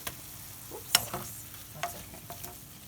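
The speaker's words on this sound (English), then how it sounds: "sprinkle my Cajun seasonings over the shrimp and cook for about 4 more minutes" Shrimp sprinkled with Cajun seasoning cook in a pan, giving a soft, steady sizzle with a few stirring scrapes and clinks close by.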